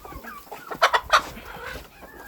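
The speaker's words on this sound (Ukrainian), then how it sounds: "Не пройти, не проїхати з цими курми." Chickens cluck nearby in a short cluster of sharp calls, with softer background clucking and farmyard ambience around them.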